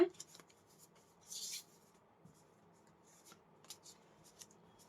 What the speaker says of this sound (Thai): อาจารย์ขอเลือกไพ่มาหกใบนะ